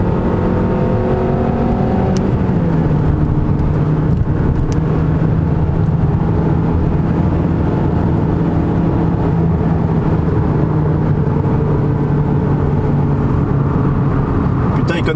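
A Ford Mustang GT350 runs on a wet Nürburgring circuit, its engine droning loudly and steadily with rising and falling pitch through gear changes, continuous and close, with road and spray noise beneath.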